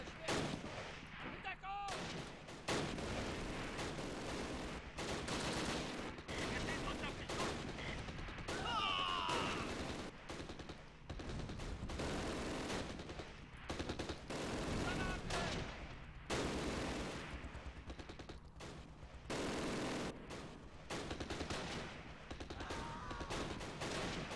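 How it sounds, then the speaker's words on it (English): Mortar and small-arms fire in the Close Combat war game at Arnhem, a dense, continuous run of crackling shots and thuds with a voice talking intermittently over the battle. "mortars are getting on the quiet side because they're running out of ammo"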